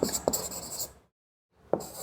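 A marker squeaks and scratches across a board in quick strokes, drops into complete silence for about half a second, then resumes with another sharp stroke.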